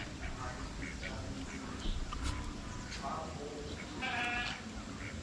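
Farm goats being dewormed in the morning bleat several times, with wavering cries rising over constant outdoor background noise. Faint human voices can be heard nearby.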